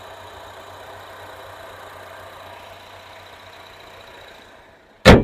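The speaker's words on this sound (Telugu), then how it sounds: "ఇంజన్ కూడా చాలా సైలెంట్ ఉంది." A Honda Mobilio S i-VTEC seven-seater petrol engine idles with a steady, quiet hum, then a sudden loud bang cuts in at the end.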